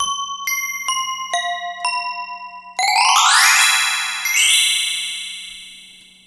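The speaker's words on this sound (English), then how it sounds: "This is the orchestral bell tree, and of course the chime bar is useful for playing that." Bright synthesized orchestral bell tree tones from the Quilcom B-2 Belly plugin ring out one by one, then a cascading shimmer of many overlapping chimes swells and sustains, with a low steady hum beneath.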